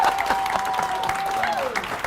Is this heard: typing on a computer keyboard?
no